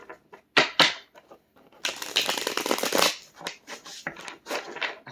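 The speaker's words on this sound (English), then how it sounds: "This deck is a little loud when I shuffle it." A deck of tarot cards is shuffled loudly up close in several quick riffling bursts, with a longer crackling run in the middle and short gaps of near silence between.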